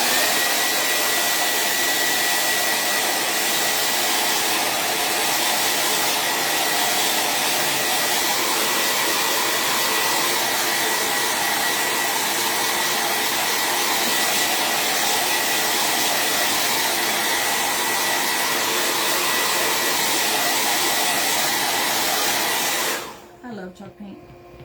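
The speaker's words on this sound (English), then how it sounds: "We're about to get to loud with the blow dryers" Blow dryers roar continuously at close range while drying chalk paint on a patriotic stars craft project, a loud steady whoosh for over twenty seconds before shutting off abruptly.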